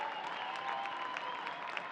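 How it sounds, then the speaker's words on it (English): Steady applause from a large stadium crowd at a soccer match, a broad continuous wash of clapping with no voices standing out. "Good applause here for Connor Ronan"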